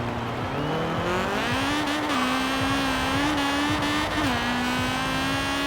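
A Honda Integra Type R on a drag strip in Forza Horizon 4 screams through a loud, continuous high-revving engine run, pitch climbing and dropping sharply at each gear shift, with tire noise under it and no talk.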